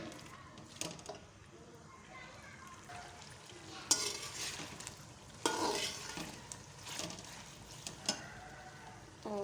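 A chicken mixture with fried onions frying in a pan gives a soft, fairly quiet sizzle, with louder bursts of scraping and stirring near the middle.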